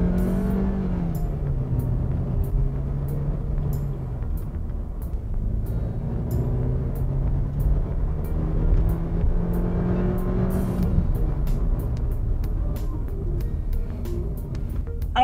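A 2021 Changan Alsvin sedan accelerates hard, its engine note climbing through the gears with brief dips at each shift, loud and steady throughout with no talking.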